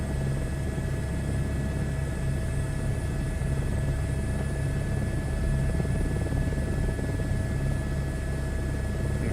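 An H125 helicopter hovering in a flight game: a steady, loud rotor thrum and turbine whine that hold constant throughout, with no talk.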